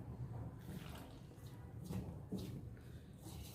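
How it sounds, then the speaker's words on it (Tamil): Water trickles and splashes softly into a bowl of flour for murukku dough, a quiet, steady pour with a few wet squishing sounds. "இப்போ நம்ம தண்ணி ஊற்றிக்கலாம்"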